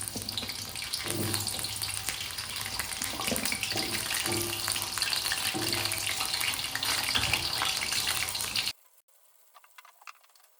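Potatoes are washed under a running kitchen tap, a steady close splashing gush with brief knocks of handling, until the water cuts off and a few faint clatters follow.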